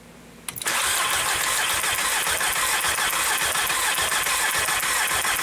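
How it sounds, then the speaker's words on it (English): A 1.8T engine with a P0302, P0303 and P0300 misfire cranks briefly and then catches, settling into a loud, steady running roar close by. "Go ahead and crank it, and we'll see what happens."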